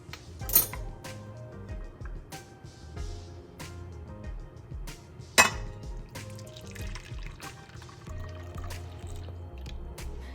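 A sweetened coffee mixture is poured from a pan into a bowl in a home kitchen, giving close, uneven trickles and drips with a few sharp clinks of metal against the bowl and no talking.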